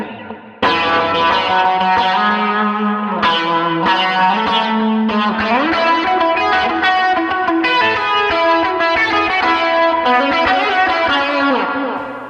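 A loud, shimmering electric guitar through a Line 6 POD Express with chorus effect plays chords and melodic lines with a wide, swirling modulation and a slightly gritty edge, steady throughout with no voices.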